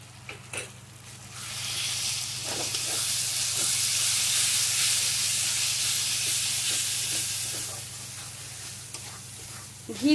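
A soaked spice paste hisses and sizzles loudly as it hits a hot pan for a goat meat curry, with the frying swelling then easing and intermittent scrapes of stirring.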